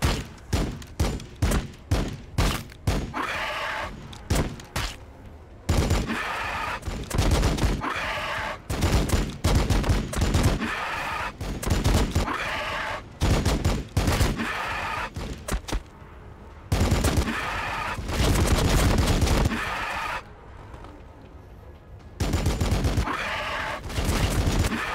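Rapid gunfire rattles through the Warhammer 40,000: Battlesector video game, with volleys of loud, close shots in bursts, some quick single cracks and some sustained fusillades, spread across the whole stretch with no talking.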